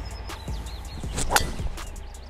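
A golf driver strikes a straight tee shot on an outdoor course, one sharp crisp whoosh and crack near the middle, alone against faint outdoor ambience.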